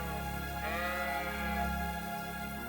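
A sheep bleats in Kingdom Come: Deliverance 2, one drawn-out wavering bleat rising out of a constant low ambient hum, fairly close and clear, with no one speaking.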